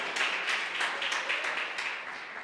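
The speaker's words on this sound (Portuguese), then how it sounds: "Você pode aplaudir ao Senhor" A church congregation applauds, a dense rhythmic wash of many hands clapping together, steady and fairly loud throughout.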